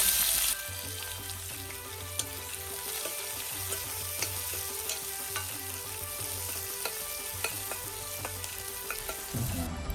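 Onions fry in a pan with a steady, close sizzle throughout, broken by frequent clinks and scrapes of stirring.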